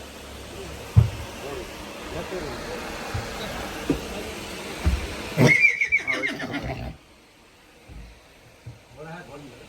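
A mare whinnies at a farm with her foal nearby, a high, wavering neigh rising clearly for a second or so amid background noise and low murmuring voices.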